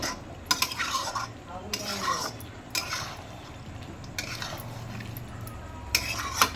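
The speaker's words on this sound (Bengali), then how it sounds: "এবার আমি মশলাটার সঙ্গে মাংসটাকে কষে নিই।" Mutton being stirred with spice paste in a pan, with repeated scraping and clattering strokes of a utensil over a low frying sizzle, the strokes coming in bursts across the clip.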